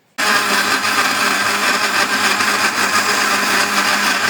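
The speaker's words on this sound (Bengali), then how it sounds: "দেখেন আমার এই যে ব্লেন্ডার করা প্রায় হয়ে আসছে।" An electric blender whirs loud and close, starting abruptly and running steadily while it blends malta oranges with their peel for cake batter.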